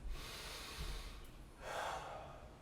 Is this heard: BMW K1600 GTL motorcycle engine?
no